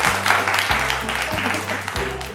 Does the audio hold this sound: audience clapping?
yes